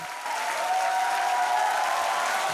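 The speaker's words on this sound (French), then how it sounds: "les acteurs sont accueillis avec un tonnerre d'applaudissements" An audience at the end of a film screening applauds the actors with a thunderous, sustained ovation, a dense even roar of many clapping hands that builds slightly and holds steady.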